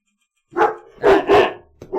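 A dog barks in a few loud, close bursts with short gaps, heard during a video game session.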